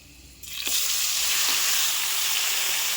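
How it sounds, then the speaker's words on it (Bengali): Mutton drops into hot oil with fried garlic, setting off a sudden loud hiss that swells into a steady, intense sizzle which carries on close and unbroken. "দেখো রসুনটি লাল হয়ে গেছে, এখন এই যে মাংসটা দিয়ে দিই।"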